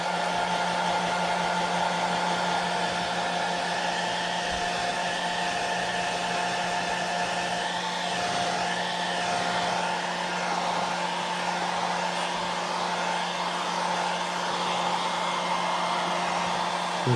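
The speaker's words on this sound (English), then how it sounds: "I'm going to dry this blush area" A hair dryer runs steadily and continuously, drying paint on the blush area of a figure being painted, a close and even whir with no talking.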